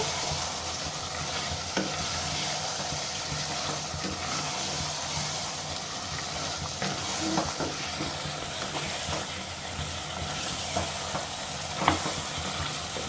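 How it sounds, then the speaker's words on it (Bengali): Beef with spices and salt sizzles and is stirred in a pan for a traditional Khulna chui jhal beef curry, a steady broad frying hiss with occasional scrapes and clinks, close and continuous with no talk. "আমি মশলা সব এখন দিয়ে দিব দিয়ে আমি সুন্দর মতো আবারও কষাবো"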